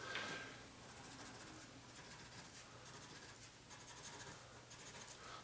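A pencil shades on paper close up, a soft continuous scratching in short rhythmic strokes with brief pauses between bursts, alone without speech.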